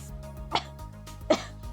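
Two short coughs spaced about a second apart, each a sharp burst standing out over a low steady background hum, fairly close and moderately loud.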